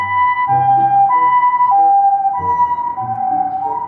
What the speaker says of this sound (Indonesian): Mobil ambulan, teman-teman.